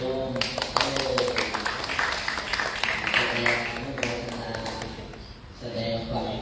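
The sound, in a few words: audience clapping in honour of the speaker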